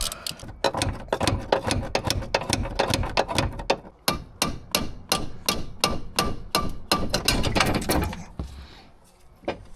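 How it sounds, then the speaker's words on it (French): Bolts on the steering flex coupling of a Nissan Patrol being loosened with a hand tool: dense, repeated metallic clicks and knocks in quick bursts, close and fairly loud, with a short pause before a steadier run of sharp ratchet-like ticks. "Je peux continuer de desserrer mes vis du flector."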